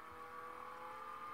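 Steady engine drone of a car at speed with a constant high whine, faint and even throughout, like video game driving.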